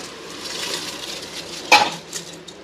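Rice tipped into hot oil in a pot and stirred, a soft sizzle under scraping, with one sharp metallic clank of a spoon against the pot near the end.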